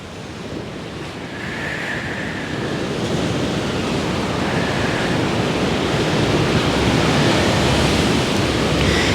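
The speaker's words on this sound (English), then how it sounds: "just listen to the sounds of the waves while you breathe." Steady ocean surf rolls and washes continuously, a broad rushing roar that slowly builds louder over the stretch, with no voices.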